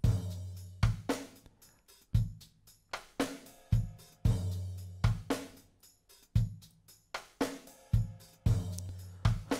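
An acoustic jazz drum kit sampled in FL Studio plays a looping pattern of punchy kick and snare hits with cymbal accents, clean, rhythmic and alone, repeating about every two seconds.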